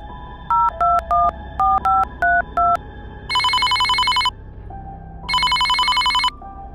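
A phone call is placed with a quick run of keypad dialing tones, followed by two long ringing bursts separated by a short pause, all loud and clear with no talking.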